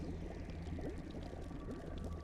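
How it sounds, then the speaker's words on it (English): Bubbling, squelching liquid sounds rise from the surface of a glistening blue pool in a fantasy tale, a steady gurgling wash that runs continuously without pause. "sort of bubbling, squelching noises above the surface of the water"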